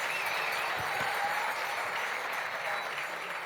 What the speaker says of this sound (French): je voudrais que voilà, on l'applaudisse aussi